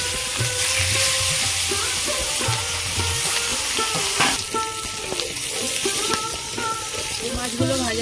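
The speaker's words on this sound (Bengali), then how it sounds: "বাকি মাছগুলো ভেজে নেব।" The remaining bhangon fish sizzle in hot oil in a kadai, a steady close crackling fry with intermittent stirring and utensil taps.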